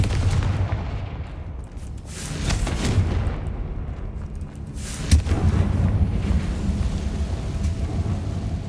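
Confringo blasting spell in the Hogwarts Legacy video game, a heavy rumbling boom from a fiery blast, with sustained low roar and a sharper impact midway, loud and continuous with no talking.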